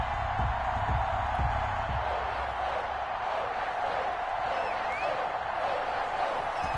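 A sold-out stadium crowd at Foxborough in the Madden 21 football video game, with the Patriots facing the Tampa Bay Buccaneers: a steady, dense roar of cheering that holds throughout, with a few low thumps near the start.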